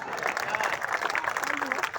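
An audience at a Hindi humour poetry gathering applauds, a short burst of massed clapping with crowd noise and some talk mixed in.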